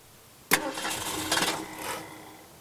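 A 1965 Ford Mustang's 289 V8 engine cranks and catches with a sharp burst, then settles into a rough, rumbling idle with a brief rev partway through.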